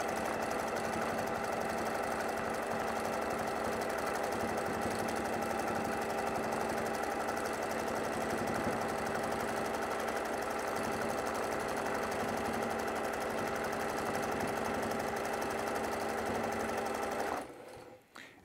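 A sewing machine runs continuously while quilting fabric, a steady close mechanical hum and rapid needle chatter that holds evenly for about seventeen seconds before stopping abruptly.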